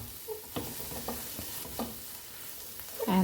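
Cumin (jeera) powder, red chili powder and salt cooking briefly in a pan, a soft continuous sizzle broken by several sharp scraping taps of a spoon stirring, close up with no voices.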